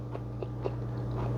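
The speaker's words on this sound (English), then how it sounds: "let me chew this." Chewing a cashew toffee cookie close up, with a few crisp crunchy bites spaced through a soft, steady chomping with no talk.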